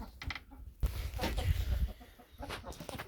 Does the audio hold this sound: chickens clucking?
yes